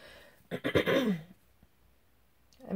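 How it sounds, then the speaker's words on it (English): Someone clears their throat once, a short rough rasp close to the mic, followed by quiet and a faint breath at the end. "I'm like wondering if I'm going to struggle with this whole video clearing my throat"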